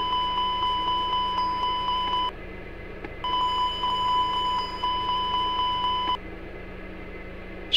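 Fire detection test alarm in a Majestic Q400 flight simulator cockpit: a steady electronic tone sounds for about two seconds, pauses briefly, then sounds again for about three seconds. It plays alone and loud over a low cockpit hum.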